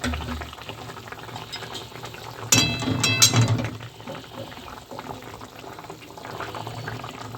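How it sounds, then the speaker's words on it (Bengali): Potatoes boiling in a pot of water, a steady bubbling simmer with a short burst of louder clattering and splashing in the middle. "এই যে আলু খুব ভালোভাবে সিদ্ধ হয়ে গেছে।"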